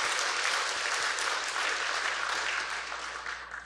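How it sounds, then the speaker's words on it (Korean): A church congregation at a Christmas Day service breaks into sustained applause, a dense, even wash of many hands clapping that fills the room and gradually tapers near the end. "우리 아버지 하나님과 우리 주님께 크게 박수 한번 올려드립니다."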